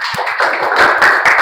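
Audience applause at a teaching session, a dense patter of hand claps sounding fairly close, steady through the brief moment with scattered sharper taps.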